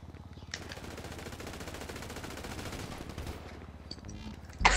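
G36 rifle in Grand Theft Auto Online firing a sustained rapid full-auto burst of nearly three seconds, moderately loud and dense, followed by a few quieter scattered sounds and a sharp final noise.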